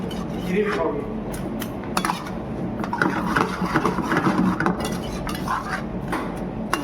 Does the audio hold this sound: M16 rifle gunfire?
no